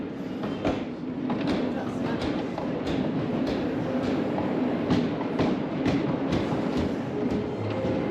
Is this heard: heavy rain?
no